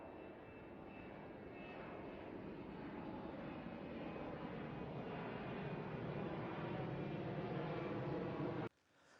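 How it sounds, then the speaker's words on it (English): An airplane passes overhead as a steady, broad engine roar that builds slightly and holds for about nine seconds, with no one speaking, then cuts off abruptly at the end. "There's a plane coming over as well"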